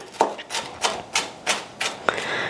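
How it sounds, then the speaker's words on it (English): Knife mincing grapes on a cutting board for grape salsa, a series of about seven crisp, evenly spaced chops close by, with no talking. "I'm switching them around and I'm mincing them kind of like I would garlic."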